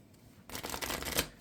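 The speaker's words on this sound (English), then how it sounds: "I'll shuffle it real quick." A deck of Marvel Champions cards is shuffled by hand, a short close riffle of rapid papery flicks lasting about a second, quiet and alone.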